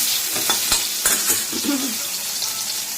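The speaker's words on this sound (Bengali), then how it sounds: "বেগুনটা ছেড়ে দিলাম, বেগুনটা একটু ভেজে নিয়ে তারপরে নিম পাতাটা ভাজবো" Eggplant sizzles in hot oil in a pan while being stirred, a continuous bright frying hiss punctuated by a few scraping knocks of the spatula against the pan.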